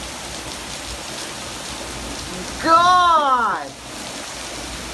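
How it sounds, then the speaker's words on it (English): Torrential night thunderstorm downpour in Aurora, Colorado, a steady roar of heavy rain throughout, with a person's voice briefly exclaiming over it near the middle. "torrential downpour. Aurora, Colorado's getting totally hit right now."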